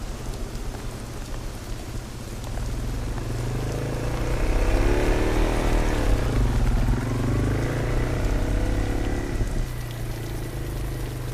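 Rain pours down steadily in the background of a horror film scene, a dense continuous hiss under a low rumbling hum that swells midway and then eases, with no speech.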